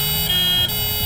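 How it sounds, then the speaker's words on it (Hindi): Ambulance siren from a Hindi-dubbed action film, loud and close, a steady wailing tone held across the whole short moment with no talk. "अरे भाई 1 मिनट, एम्बुलेंस को जाने दो"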